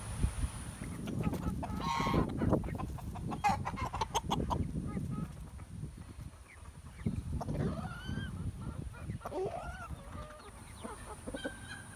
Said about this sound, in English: there's another batch of hens that are younger, and you can see them